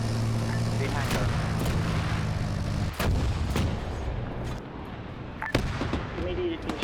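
Mortar artillery shelling in a military video game, with heavy booming thuds and sharp blasts over a constant loud rumble of battle noise, while voices speak over the action.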